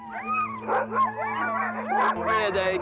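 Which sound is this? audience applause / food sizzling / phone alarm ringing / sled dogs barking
sled dogs barking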